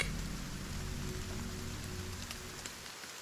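Steady rain falling on a rainy night, a dense even hiss of drops with low rumble underneath, continuous and close throughout the short stretch.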